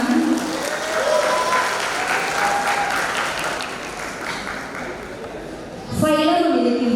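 Audience applause at a university convocation ceremony, a broad wash of clapping for several seconds that fades slightly, then a voice begins speaking at the end as the clapping dies away.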